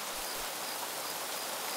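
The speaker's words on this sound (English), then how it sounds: "It's raining!" Steady rain in the video game Craft The World, an even, close, continuous hiss with no voices over it.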